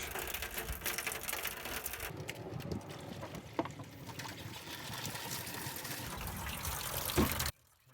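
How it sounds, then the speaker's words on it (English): Water flushes through the upper radiator hose of a Jeep XJ in a continuous, fairly near rushing hiss with small gurgles, then cuts off abruptly near the end. "Now I'm flushing the upper radiator hose."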